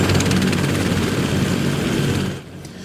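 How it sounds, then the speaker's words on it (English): Canadian military Griffin helicopters fly on an Arctic training exercise, producing a steady loud rotor and engine roar that drops away sharply near the end, with no voices. "6 Griffin helicopters will be part of the training exercise at Fort Wainwright in Alaska."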